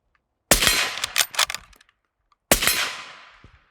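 Two sharp bolt-action rifle shots fired from a standing position, each a loud crack trailing into a rolling outdoor echo, about two seconds apart, the first followed by some clattering.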